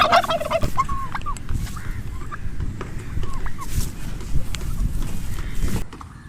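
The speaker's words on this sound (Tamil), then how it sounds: "வில்லேஜ் வான்கோழி எப்படி இருக்குது பாருங்கள்." A village turkey gobbles loudly nearby, then quieter gobbles and clucks follow over rustling, shuffling footsteps outdoors.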